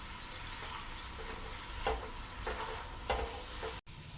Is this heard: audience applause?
no